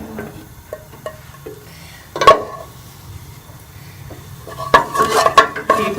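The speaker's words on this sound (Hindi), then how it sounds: "प्रेशर कुकर में सबसे पहले हम घी डालेंगे।" Ghee goes into a pressure cooker in a home kitchen. There are a few soft metallic clinks, then a sharper clatter, and a louder burst of scraping and clanking near the end, with no talking.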